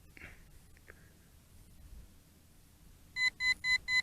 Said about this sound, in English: there's a little beeping going on